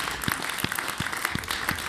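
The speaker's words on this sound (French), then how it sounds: "Je pense qu'on peut applaudir une dernière fois tous nos intervenants qui ont répondu." Conference audience applauding the speakers at the close of a colloquium, a fairly faint, continuous patter of clapping heard from a distance, with a few louder, heavier claps standing out.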